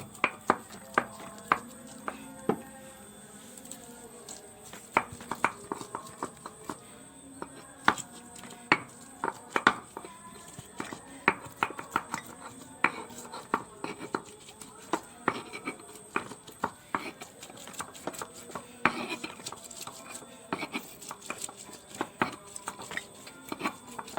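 Cauliflower florets are crushed and mashed for a nucleic acid practical, producing many irregular, close, sharp pounding knocks spread across the whole stretch, with a voice talking at times.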